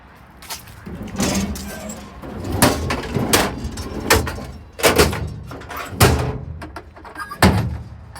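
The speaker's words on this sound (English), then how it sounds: "Let me shut these drawers." Storage drawers being shut on a 2015 Ford F-450 4x4 crane truck, a series of close, loud metallic thunks and slams at irregular intervals with no talking.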